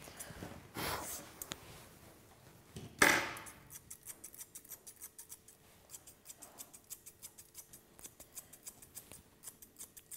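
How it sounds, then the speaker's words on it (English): Grooming scissors trim a Labradoodle's leg fur, a steady run of crisp close snips with a couple of louder rustles early on and no talking. "you want to trim that line straight down and curve it around"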